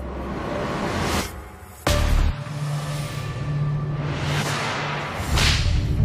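A whip artist's whip, swung faster than twice the speed of sound, cracks once with a single sharp, loud snap, set among softer swishing whooshes of the lash moving through the air.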